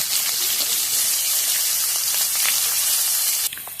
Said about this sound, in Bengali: ওই তেলে একটু ফুটন দিয়ে দিচ্ছি তারপরে পেঁয়াজগুলোকে দিয়ে দিচ্ছি